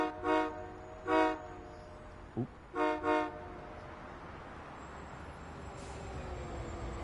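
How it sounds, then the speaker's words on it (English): A Boston MBTA commuter train in Train Sim World 5 sounds several loud harmonic horn blasts in two pairs, short toots with a brief gap, over a low rumbling rail ambience, with a voice briefly exclaiming. "That's our train."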